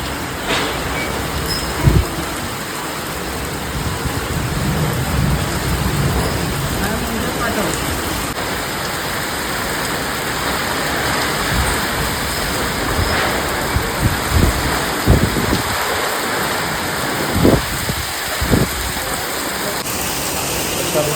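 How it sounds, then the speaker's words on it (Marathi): Steady heavy monsoon rain roars without a break on a boat trip, a dense wash of noise with occasional louder thumps and faint voices underneath. "आत्ता ते पाऊस झाला जोरात पाऊस लागला जोरात पाऊस"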